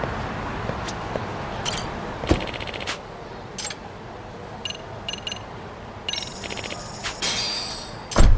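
Phone ringing in the video game Lost Judgment, a series of short bright electronic ring bursts repeating irregularly over a low game background, growing denser toward the end.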